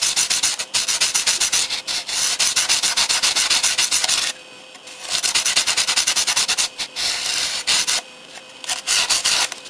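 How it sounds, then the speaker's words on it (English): Light scraping and filing clears grime from a Super Nintendo game cartridge in quick rhythmic rubbing strokes, close and crisp, broken by brief pauses between bursts. "just lightly, just filing off all the crud"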